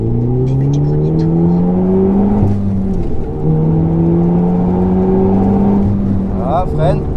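A Renault Mégane 4 RS Trophy-R laps a race circuit, its engine loud and close as it revs up through the gears with rising, shifting tones, while voices talk over it.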